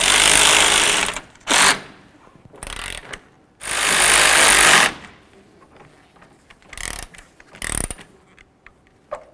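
Power tool driving and tightening the upper headlight mounting bolts on a 2005-15 Toyota Tacoma, several loud whirring bursts of varying length separated by quieter ratcheting and clicking handling sounds.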